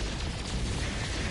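Photon cannons in No Man's Sky fire as a dense, noisy burst of blasts, loud and continuous for a moment, with no voices.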